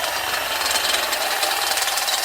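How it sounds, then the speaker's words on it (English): A drill with a stepper bit bores through metal on a Jeep JK during a suspension install, a loud, continuous grinding whine up close with no pauses. "that'll get us in there with the drill to do the"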